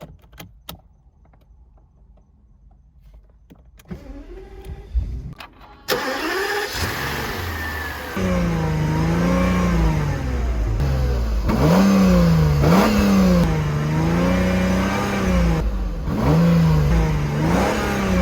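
A few quiet clicks, then the V12 engine of a 2000 Mercedes-Benz SL600 cranks and catches, settling into an idle before several rising and falling revs, loud and close.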